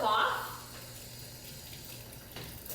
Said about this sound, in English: And then we're going to rinse our hands and get all the soap off.